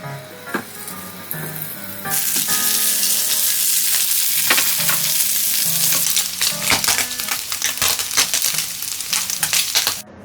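Abalone sizzles loudly as it is pan-grilled in butter, a bright, constant crackling hiss. Sharp clicks and scrapes from the pan and utensils break in now and then.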